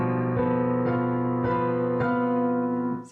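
A tritone interval, upper and lower notes six semitones apart, is struck four times in an even rhythm. Each sustained, dissonant dyad rings clearly and alone before the next attack.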